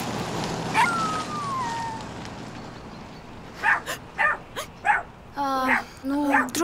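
A small dog with a feisty temper yelps, barks and whimpers in short, sharp bursts, near and fairly loud, with a few whiny cries early and then a rapid run of yips; people can be heard in the background.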